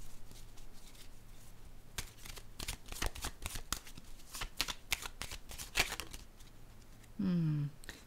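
Tarot cards are shuffled, handled and laid down close up, with a rapid run of crisp flicks and slaps and then a brief separate rasp of a card sliding.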